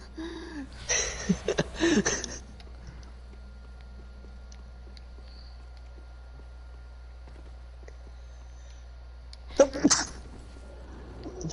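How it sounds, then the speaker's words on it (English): A sneeze bursts out suddenly near the start, followed by a long quiet stretch of faint room noise under game audio, then another short loud burst near the end. "sneeze out of nowhere"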